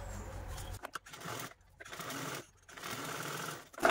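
A sewing machine stitches a zip in several short whirring bursts separated by brief pauses, fairly quiet and close.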